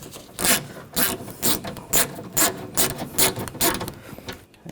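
A ratchet tightens bolts on the rear window regulator of a 2014-2020 Nissan Rogue, making close, rhythmic bursts of rapid clicking, about ten strokes in a steady back-and-forth pattern, with no talk over it.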